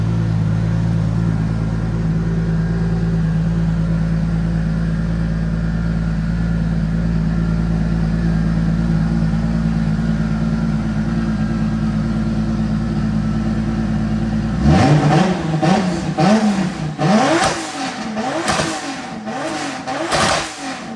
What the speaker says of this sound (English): I think we get some revs out of this thing.